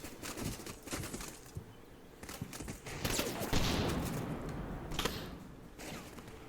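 Gunfire from an unseen shooter in the combat game Combat Mission Black Sea, a scattered run of mid-distance shots and bursts over steady battlefield ambience.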